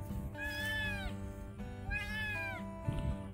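A cat in a village in Nepal meows loudly and close by, two long drawn-out meows followed by a shorter third call, with no talking over them.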